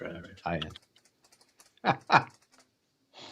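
Typing on a computer keyboard during a live stream, faint scattered key clicks between louder bursts of talking, close but quiet under the voices.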